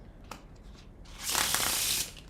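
A deck of playing cards given a perfect faro shuffle: faint soft card taps, then a close, dense riffling burst about a second long as the cards interleave, with no talk.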